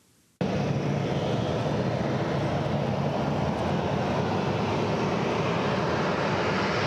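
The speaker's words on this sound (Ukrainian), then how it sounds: "Залізний птах відомого українського лоукоста «Скаяб» приземлився о 20:15." A SkyUp low-cost passenger airliner lands at Zaporizhzhia international airport on an evening flight from Boryspil. After a brief quiet moment, a loud, steady jet roar fills the rest of the clip with no voices.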